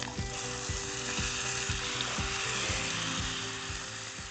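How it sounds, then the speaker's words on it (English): Lamb rump caps sear skin side down in an oiled pan, giving a loud, steady, close sizzle that holds without a break, with no voices. "I'll just place some more oil into my pan, followed by my lamb rumps skin side down."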